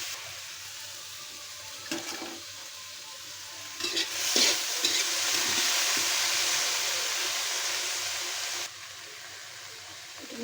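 Fried chillies sizzling in mustard oil in a pan as they are stirred, a steady, bright crackle that swells midway and stays close and continuous, with no voices.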